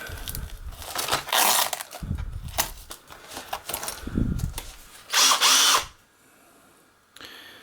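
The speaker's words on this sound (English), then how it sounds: "Let's just get the drill out." A cordless drill whirs in several short bursts of varying length, close and loud, with brief pauses and a final higher-pitched spin.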